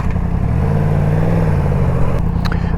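A 2022 Yamaha MT-10 SP motorcycle rolls down the road with the clutch pulled in, giving a steady loud engine rumble with low harmonic hum and road noise throughout, plus a brief clatter near the end.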